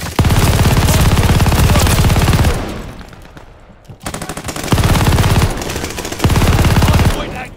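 Sustained machine gun fire around a hardpoint in Call of Duty Vanguard, loud and continuous bursts that drop away briefly midway before resuming in long rattling volleys.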